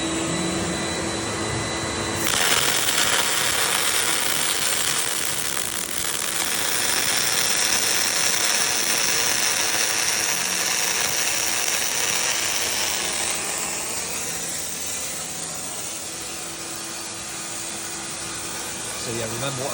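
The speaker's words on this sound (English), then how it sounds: "Sam, do you want to lay another weld down?" ESAB Rebel EMP 215 MIG welder running a bead on aluminium with 4043 1.0mm wire, a loud steady crackling hiss that starts abruptly and stops after about eleven seconds.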